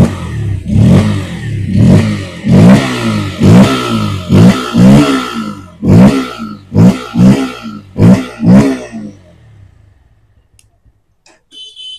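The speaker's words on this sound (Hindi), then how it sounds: "और अब मैं इस गाड़ी को आपको एग्जॉस्ट साउंड को चेकआउट कराता हूँ।" Bajaj Pulsar N160 motorcycle, 2024 model, revved repeatedly while standing: about ten sharp throttle blips with a rising exhaust note, each quickly falling back, growing shorter and quicker before the engine cuts and near silence remains.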